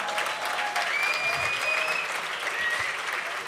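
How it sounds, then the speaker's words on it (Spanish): An audience claps steadily for a few seconds, a dense patter of applause at moderate volume, with a few faint whistles over it. "Un aplauso a Javi, que se operó."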